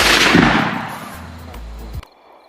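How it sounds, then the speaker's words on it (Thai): A loud, sharp blast rings out at the start and fades into a long, rumbling echo before cutting off abruptly. "เสียงปืนก็แผดกล้องขึ้นอีก"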